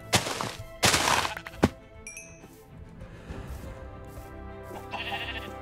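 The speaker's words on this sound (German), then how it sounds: "Entschuldigung, ihr zwei Schafe," Sheep bleating in the Minecraft video game, a couple of loud bleats early on followed by thuds and quieter game sounds, with no talking.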